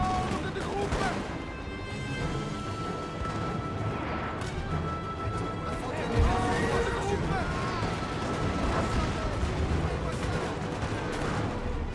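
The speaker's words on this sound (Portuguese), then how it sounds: "Os canhões não estão acertando os caras ali, mano." Cannon fire in the video game Napoleon: Total War, booming artillery shots with distant musket crackle and battlefield din running throughout, under steady talk from a player commenting.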